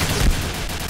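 Gunfire from the shooter video game Point Blank: a loud, dense burst of shots under a second long, filling the whole clip.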